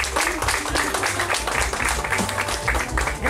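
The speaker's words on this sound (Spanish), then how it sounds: "Yo quiero pedir un fuerte aplauso primero que nada para el santo patrón, los presentes, un fuerte aplauso." Applause from a crowd at an outdoor patron saint fiesta in Sayultepec, Oaxaca, a dense steady clatter of many hands lasting throughout, with voices and background music mixed underneath.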